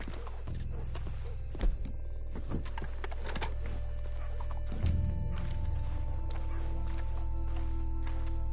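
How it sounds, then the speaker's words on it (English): Horses in the video game Red Dead Redemption 2, hooves clip-clopping with a brief neigh amid busy game ambience, steady and moderately close throughout. "let's hitch the horses up ahead."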